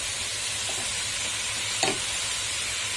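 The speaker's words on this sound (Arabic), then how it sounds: "انا نزلت بقى بالفريك كله، قلبته كده شوية" Freekeh and carrots with spices fry in a pot with a steady bright sizzle, while a single stir scrapes briefly through the middle, with no voices.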